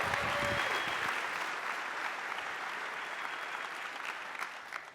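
A conference audience at a tech company summit's live event breaks into loud, sustained applause, a dense wash of clapping that stays strong and slowly fades over a few seconds, with no speech on top.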